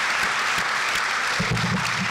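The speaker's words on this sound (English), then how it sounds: "can we give this chorus and band, just orchestra, just one more round of applause?" Brief burst of audience applause for a university chorus and orchestra at an opening convocation, fairly loud and steady, with a low murmur or voice briefly rising underneath toward the end.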